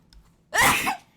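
A single sharp human sneeze, loud and close, bursting out after a brief quiet intake of breath and ending cleanly within about half a second.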